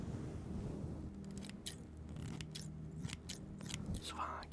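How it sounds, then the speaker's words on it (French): Scissors snipping hair during an at-home bowl haircut, a string of quick, crisp metallic snips in uneven bursts, close and fairly loud, over soft background talk from people in the room. "Souvent, quand je sors les ciseaux,"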